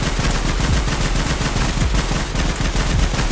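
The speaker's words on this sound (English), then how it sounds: "So now when I reload, I'm just gonna fire an entire clip." An RPK machine gun in a Minecraft Bedrock mod empties a full 80-round drum, rapid loud automatic fire cracking continuously without pause.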